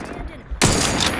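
Gunfire in The Outer Worlds 2 video game, a sudden loud burst of shots cutting in after a quieter moment and continuing to the end.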